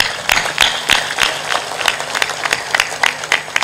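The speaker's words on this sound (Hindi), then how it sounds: "तालियां जोर से बजाया करो।" Audience at a Hindu satsang discourse clapping in unison, a loud, steady rhythmic beat of many hands close by, continuing throughout.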